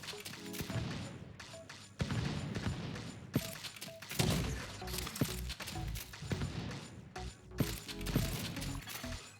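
Gunfire from the video game Division 2 while farming enemies at Kenly College, with dense bursts of shots, cracks and impacts running continuously under game music and effects.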